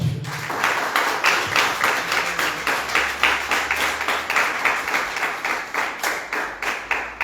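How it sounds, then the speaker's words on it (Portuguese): Rhythmic group clapping in a steady beat, loud and close, sustained for several seconds like a congregation applauding in time at a Christian church service. "Vamos aplaudir a Jesus, meus irmãos?"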